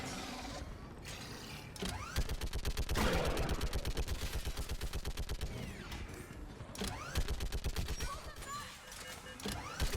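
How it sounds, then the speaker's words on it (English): A mounted gun in Mass Effect 3 fires rapid, steady bursts of loud mechanical shots, pausing briefly between volleys, with game voices calling out over the gunfire. "Get on that gun! Do some damage!"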